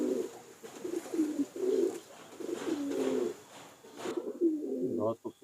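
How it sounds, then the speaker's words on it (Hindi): Rampuri toqiya pigeons coo in a steady run of low, rounded calls, fairly close, with brief pauses between phrases and faint background noise. "देखिए ये रामपुर के तोकिया कबूतर हैं"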